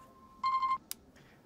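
A mobile phone rings indoors with a short, loud electronic tone lasting under half a second, followed by a sharp click, against a quiet room background.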